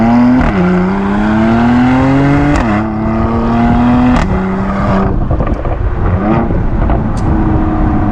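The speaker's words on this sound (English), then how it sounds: "The upshifts are just, you get snaps, crackles, pops, bangs" A Mercedes-AMG C43 coupe with an aftermarket exhaust and 9-speed G-tronic gearbox revs loudly and steadily from inside the cabin, engine pitch rising then dropping at each upshift, with sharp exhaust snaps and crackles marking the shifts.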